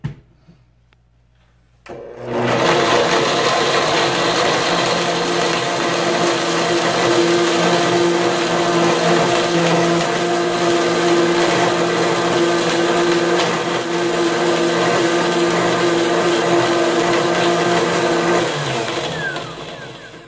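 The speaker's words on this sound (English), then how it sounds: "You don't need an expensive blender to get the job done." A blender grinding tomato into powder starts abruptly after a brief quiet moment and grinds loudly and steadily for the rest of the clip before easing slightly at the end.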